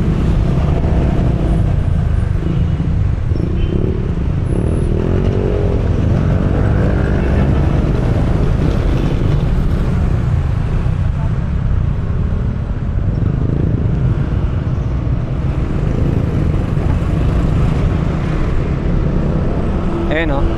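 Steady roadway traffic on Emilio Aguinaldo Highway: a continuous, loud blend of car and bus engines with low rumble, with brief brake hisses and a voice partly heard over the din.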